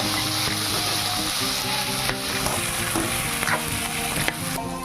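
Boiled potatoes stirred into a curry frying in a pan, with a steady loud sizzle and continuous scraping stir throughout, several sharper clinks of the utensil against the pan, no voices.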